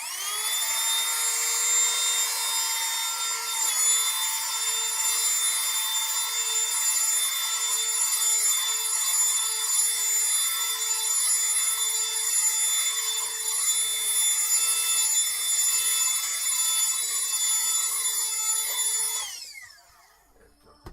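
A loud, steady high-pitched blast of blown air clearing eraser dust off a landscape artwork, sustained close-up for nearly twenty seconds before cutting off abruptly.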